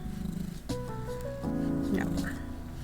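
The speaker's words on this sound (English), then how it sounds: "Little raspy purr." Miss Mia the cat purring with a raspy, rattling tone, soft and close, while a person speaks gently over it.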